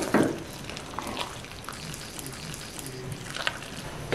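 Shami kabab masala being stirred in an opened pressure cooker, with faint scraping and light sizzling, soft intermittent stirring strokes, quiet and close.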